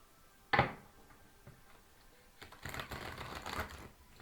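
A tarot card deck is shuffled, with a sharp snap of cards early on, then a brief riffle of cards fluttering close to the microphone, quiet and short, with no talking.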